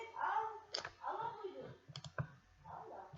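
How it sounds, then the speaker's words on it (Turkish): Quick computer keyboard typing, a run of light clicks and taps close by, with speech-like sounds interrupting partway through. "Çok hızlı yazıyorum"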